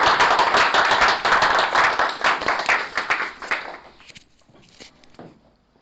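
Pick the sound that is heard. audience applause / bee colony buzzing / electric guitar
audience applause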